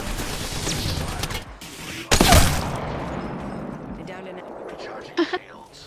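Gunfire from a charge rifle during an Apex Legends battle royale match, with bursts of shots and a heavy blast near the middle, mixed under continuous talking.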